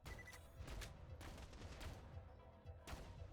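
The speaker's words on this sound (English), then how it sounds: "I say that while shooting at something with a SMG" An SMG in the Borderlands video game fires in rapid bursts at a distant target, quiet and steady, blended with other game noise and no voices.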